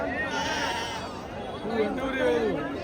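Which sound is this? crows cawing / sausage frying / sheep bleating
sheep bleating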